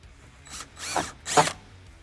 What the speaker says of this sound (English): Now get your drill again with a 9/64 drill bit on there